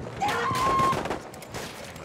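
Rifle gunfire in the video game Battlefield 1, a short burst of rapid loud shots with a metallic ring, followed by quieter battlefield noise.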